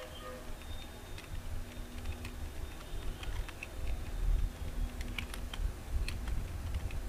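Keys clack steadily on a computer keyboard as text is entered in MS Word, a quiet irregular run of light taps and clicks over a low room hum, with no voice.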